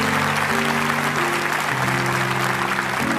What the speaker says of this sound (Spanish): Quiero darle un aplauso a todos esos que están de pie.